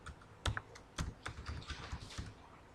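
Keys clatter on a computer keyboard as a new password is typed during Chef server setup, a quiet run of about a dozen crisp, uneven taps heard up close with no talk.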